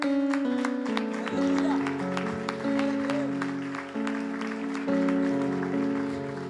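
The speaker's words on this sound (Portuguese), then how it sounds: "Você pode aplaudir ao Senhor?" A church congregation applauds to the Lord during a Portuguese-language worship service, sharp rhythmic claps punctuating sustained music and voices throughout.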